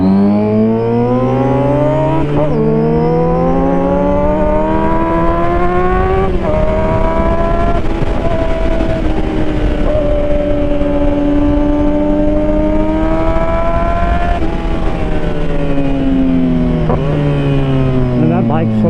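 A motorcycle rides along a winding, slippery road, its engine droning steadily and loud throughout with repeated rising and falling revs as it shifts and slows, with riders talking over the engine noise.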